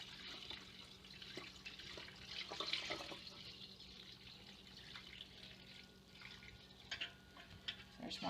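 Fresh cow's milk is poured through a strainer, producing a soft, steady splashing trickle that runs continuously and quietly, with a few louder splashes near the end.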